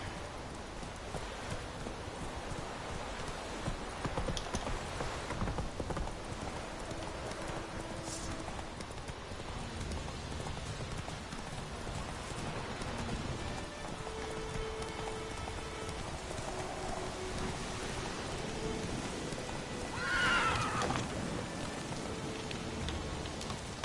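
Horse hooves clip-clop in The Witcher 3 against a steady rain-like background, moderately faint throughout, with a brief higher whinny-like call near the end and no voices.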